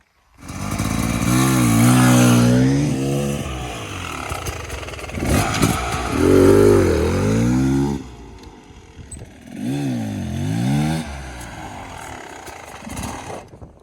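Dirt bike engine revving hard and then dropping off in repeated bursts during enduro start-and-brake practice, a loud, close buzzing motor that rises, falls, pauses briefly, then revs again.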